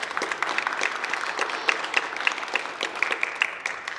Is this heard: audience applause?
yes